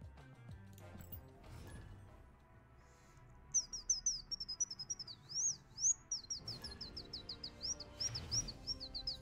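A person whistles an imitation of a bird call as a quick run of high chirps and trills in two bursts, faint and alone against quiet background hum.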